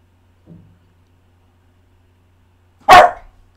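A dog named Zoe gives one sharp, loud bark indoors after a faint brief whimper, with silence around both sounds.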